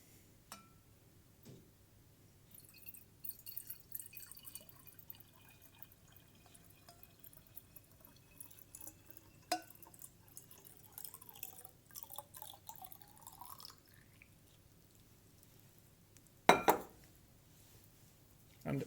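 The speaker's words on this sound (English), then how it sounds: "what we'll do is fill it up with water." Blue-dyed water trickles and drips into a glass round-bottom flask in a chemistry lab, with faint intermittent splashes and light glassy clinks over a quiet background, ending in a couple of sharper knocks.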